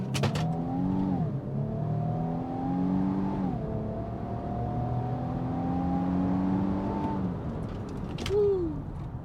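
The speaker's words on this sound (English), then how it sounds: "put this thing in sport mode, and let's do a quick 0 to 60. I'll brake boost it and take off" A 2025 Infiniti QX80 with a twin-turbo V6, launched hard in sport mode from 0 to 60, its engine note climbing steadily through long upshifts, loud and close from inside the cabin.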